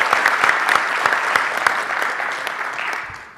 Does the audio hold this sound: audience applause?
yes